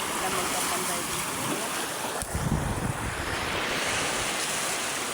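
Ocean waves crashing on a shore, a loud, continuous rushing surf with heavy wind buffeting the microphone and one stronger wave break midway.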